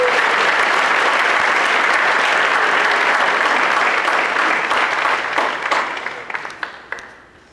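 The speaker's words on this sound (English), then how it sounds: "So let's give all of those people a round of applause." At a school athletic awards ceremony, a gym crowd gives dense, loud applause that holds steady and then thins into scattered individual claps before dying away.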